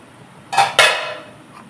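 A metal lid lifted off a cooking pan of tomato and onion, giving two quick clanks close by, each ringing out briefly before quiet returns.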